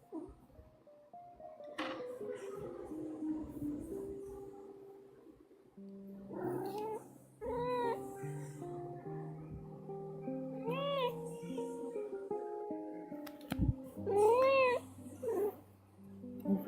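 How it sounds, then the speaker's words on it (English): A very loud female cat meows repeatedly in long, rising wails with short pauses between them. The calls sit close to the microphone and stand out clearly over faint background noise. "It's a very, very loud cat."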